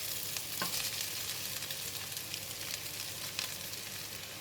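Noodles for mee goreng with tofu stir-frying in a pan as bean sprouts go in: a steady close sizzle with occasional scraping stirs, no talking.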